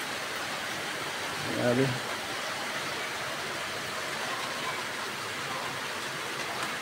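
Heavy rain pouring steadily during flooding in Rizal, a dense continuous hiss close by, with a short spoken exclamation briefly over it.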